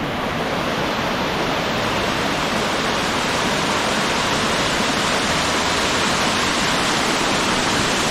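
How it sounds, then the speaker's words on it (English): Broad, steady roar of a waterfall on a Thai farm, loud and constant throughout with no voices, the rushing water filling the whole span. "Waterfalls. There you go."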